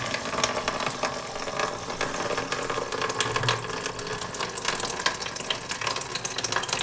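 Water drains from a leaking bathroom sink into a container set on the floor, producing a steady close trickle and splashing with faint clinks, continuous throughout and without talk.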